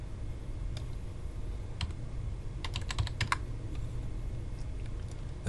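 Typing on a computer keyboard while entering values in CAD software: scattered single key clicks, then a quick burst of close keystrokes, alone and near.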